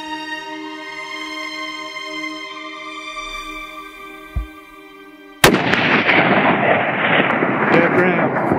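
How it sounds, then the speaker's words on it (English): A single sharp rifle shot on a Rocky Mountain bighorn sheep hunt cracks out loud and close after a sustained tonal hum, leaving a long rolling echo across open country. "We're shooting."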